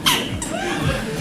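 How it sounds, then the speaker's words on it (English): A squeaky chair creaks with a short, rising squeal followed by a longer drawn-out creak, close and clear, in a quiet room. "got a bit of a squeaky chair."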